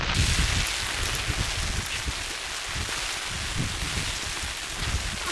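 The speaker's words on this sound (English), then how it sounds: "Bit of hail." Hail and rain falling in New Zealand's Southern Alps on the West Coast, a dense, steady hiss of drops striking the ground, loud and continuous throughout with no voices.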